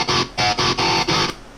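Five short, choppy palm-muted guitar chords in a robotic style, evenly spaced and abruptly cut off, close and loud with no talk over them.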